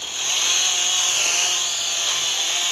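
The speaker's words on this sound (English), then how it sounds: "You just take out that chainsaw." A video game chainsaw revving in a steady, continuous high whine with a slight rise and fall in pitch, loud and close, with no talking.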